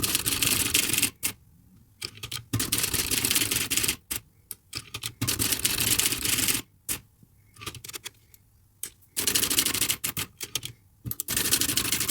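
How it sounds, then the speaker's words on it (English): Bursts of rapid key strikes clack from a Facit TP1 typewriter, with loud flurries of typing broken by short silent pauses and no talk. "I am now going to put the ribbon back in it and get some more paper and just do a little bit of typing"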